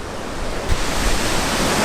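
Rushing water at Lemolo Falls, a steady loud broadband roar of the waterfall heard up close, with no voices.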